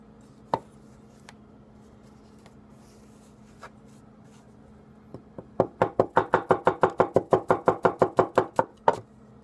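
A heavy Gassan 210 mm gyuto knife chops through cherry tomatoes on a board, a few scattered knocks first, then a fast steady run of about fifteen crisp, close thuds.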